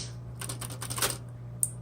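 A 1960s Smith Corona Coronet Automatic 12 electric typewriter clatters through a quick run of light key strikes, near and fairly soft, ending with one sharper isolated tap over a steady low motor hum.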